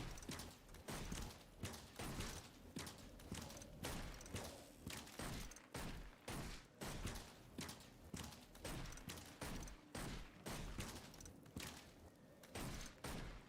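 Rapid, rhythmic weapon fire in a video game, a steady run of loud shots repeating about twice a second for the whole stretch, close and punchy with no talk over it.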